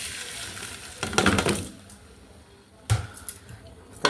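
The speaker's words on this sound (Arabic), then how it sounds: "افضل اقلب البصل" Onions are stirred and fried in a pan with rice and lentils: a gentle sizzle broken by two scraping, clattering bursts of stirring, the first longer and the second brief, heard close up.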